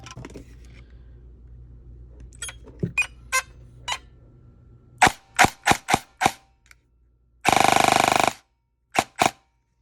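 Stock Daniel Defense Mark 18 airsoft rifle firing near and loud: scattered single shots, then a quick run of semi-auto pops, a short full-auto burst and two last shots, with faint handling clicks early on.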